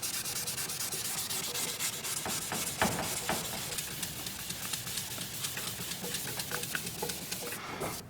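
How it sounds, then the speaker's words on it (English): Close, steady scratchy rasping of a surface being sanded by hand, the strokes repeating in an even back-and-forth rhythm with no talking. "We'll still have to sand these areas a little bit more up here."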